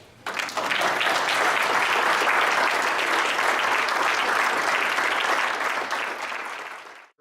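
Sustained applause from an audience at a US Coast Guard Auxiliary division change-of-watch ceremony, a dense, steady wash of many hands clapping that starts abruptly, holds loud and even for about seven seconds, then fades out.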